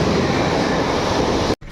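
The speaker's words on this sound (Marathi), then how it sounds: "घ्या मित्रांनो ट्रेन बघा, एक्सप्रेस." An express train rushes past at night, a loud, close, continuous broadband roar of wheels and carriages that holds steady, then cuts off abruptly near the end before a quieter rumble returns.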